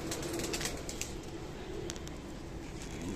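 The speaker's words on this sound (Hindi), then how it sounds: "कबूतरों को खोल दिया है, दाना डाल दिया है" Pigeons released from their loft and given grain coo softly in a faint, continuous murmur, with occasional light rustles and flutters over a steady background hum.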